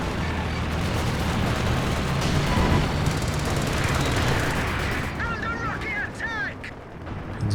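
Rattling MG34 machine gun fire in Company of Heroes 2 mixed into a dense wash of battle noise with rumbling explosions, sustained and loud throughout, with a commentator talking over it.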